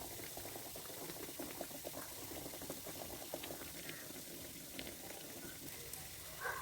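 Breaded beef rolls deep frying in oil over a medium flame give a faint, continuous bubbling fizz with small pops throughout.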